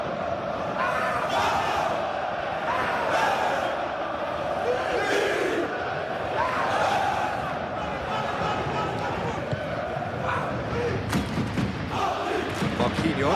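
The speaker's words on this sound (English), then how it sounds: "Maybe the crowd will stay a little quieter next time." Simulated stadium crowd in a PES 21 football match, a Champions League final between PSG and Arsenal, roars and chants as a steady wash of noise with occasional swells and thuds, under a commentator's voice.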